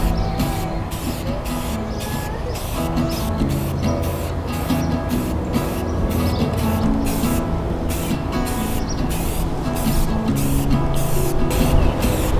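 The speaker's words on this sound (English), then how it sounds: "One thing you got to keep in mind when you're spray painting, to lay it on real thin." Spray can hissing steadily as garden tool hardware is spray painted outdoors, a close continuous aerosol rush broken by short rhythmic pauses between bursts.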